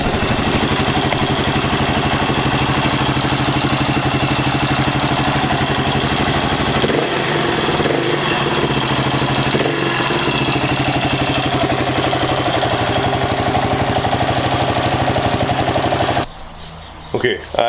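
Yamaha TT600 custom scrambler single-cylinder engine running close by, a loud rapid chugging drone that holds steady for most of the time before cutting off near the end.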